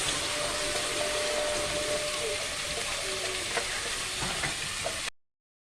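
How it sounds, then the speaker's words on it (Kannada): Finely chopped onions frying in a hot pan with cloves, star anise and fennel, a steady dense sizzle lasting several seconds with a few faint stirring clicks, no voices, cutting off abruptly. "ಅಲ್ಲಿ ಈರುಳ್ಳಿ ಬೇಯ್ತಾ ಇದೆ"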